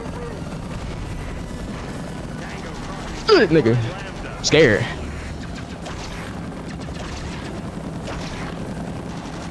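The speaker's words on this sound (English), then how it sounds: "That chopper is still right behind me." A helicopter chasing through the city in Ultimate Spider-Man, a steady rotor drone underneath with two loud sweeping whooshes midway while someone talks over it.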